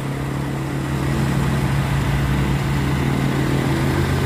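A 1990 Honda Grand Civic engine idling, a steady smooth low hum with a constant tone, close and continuous with no voices.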